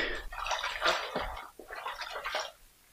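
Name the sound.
lukewarm soapy water splashing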